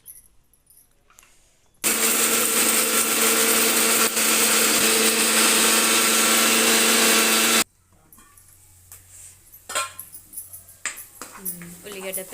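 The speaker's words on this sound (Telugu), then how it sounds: "వేయించుకున్న మసాలా ఇప్పుడు మిక్సీ పట్టేసుకుందాం." A mixer grinder whirring loudly as it grinds roasted masala spices for a fish curry, a steady high-pitched roar lasting about six seconds, with quieter kitchen sounds and talking before and after.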